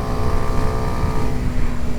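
A 125cc motorcycle engine in fifth gear drones steadily at high revs, a loud continuous buzzing hum with no pauses.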